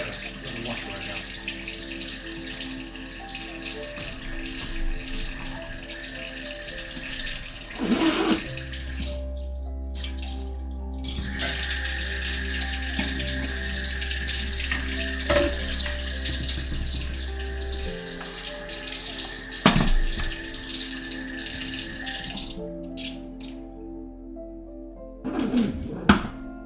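Water runs from a kitchen tap while a wooden cutting board is washed in the sink, a continuous splashing stream with occasional thunks and knocks, near and moderately loud, with flow changes partway through.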